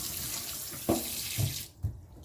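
Water runs steadily from a kitchen tap into a sink while raw chicken is washed, with a few soft knocks and splashes, then the flow is cut off and drains quietly near the end.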